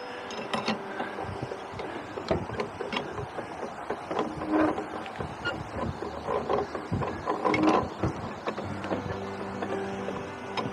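Lock paddle gear being lowered at Beeston Iron lock on a narrowboat canal, a close series of metallic clanks, ratcheting clicks and grinding mechanism noises, irregular and moderately loud.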